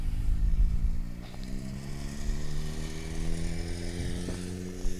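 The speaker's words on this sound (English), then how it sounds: "motorcycle will fly by, you'll hear it, you won't see it, but Coda's gonna be off leash." A motorcycle passes unseen in the distance, its engine droning with rising and falling pitch over several seconds, steady and moderately faint in an outdoor setting.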